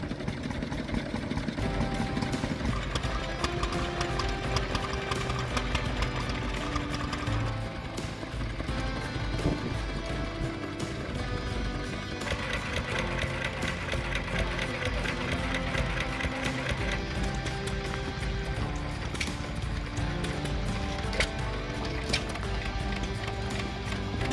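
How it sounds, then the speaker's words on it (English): Vintage stationary engines such as Lister, Bamford and Crossley run bolted to wooden skids, giving a continuous rapid staccato chugging with overlapping engines at steady loudness throughout. "Infiltrate the stationary engine sector to measure these staccato frequencies."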